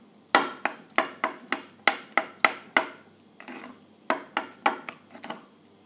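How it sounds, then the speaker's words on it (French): A spoon clinks and scrapes against a bowl while fromage blanc is stirred with raspberry jam, a series of sharp, close taps and knocks in quick irregular bursts with a brief pause midway. "je commence par mélanger le fromage blanc avec la confiture de framboise"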